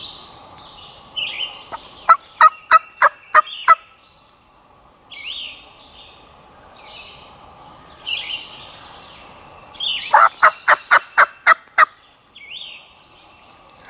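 A wild turkey gobbles in two bursts, each a rapid run of about six loud rattling notes, heard across an open hunting setting in Alabama amid other distant bird calls and steady background hum.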